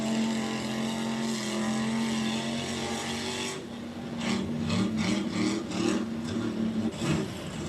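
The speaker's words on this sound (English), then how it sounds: "On the rev limiter." A race car engine holds high revs and bounces off the rev limiter in a steady droning buzz, then stutters with rapid rhythmic cuts in the second half, moderately distant with no talking.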